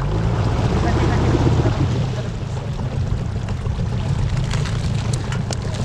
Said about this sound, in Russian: Ветер, немного снег.